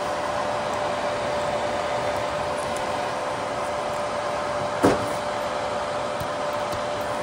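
The heatsink fan on a KS0 Ultra crypto miner runs at 4500 RPM, producing a steady, even whir with a faint constant whine and one brief knock partway through, with no talking.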